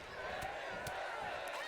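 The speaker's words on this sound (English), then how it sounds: "You hear this crowd chanting in the background, women's wrestling." A video game arena crowd at a WWE 2K women's wrestling match roars in a sustained wall of cheering with rising chant-like voices, punctuated by sharp slams on the mat, loud and continuous throughout.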